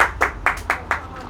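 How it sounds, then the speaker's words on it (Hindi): Hands clap sharply in a quick, even series of five or six claps, close and loud, with no talk over them. "अरे इसके लिए ताली बजा पहले, ताली में दम होना चाहिए"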